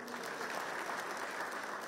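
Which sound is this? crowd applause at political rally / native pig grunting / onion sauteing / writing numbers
crowd applause at political rally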